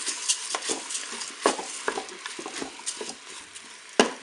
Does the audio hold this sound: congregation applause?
no